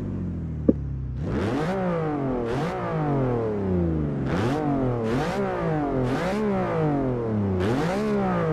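A Lamborghini Miura's 3.9 litre 350 horsepower V12 revs hard through repeated gear changes in a racing game, each pull rising in pitch before a quick shift drops it again, loud and continuous.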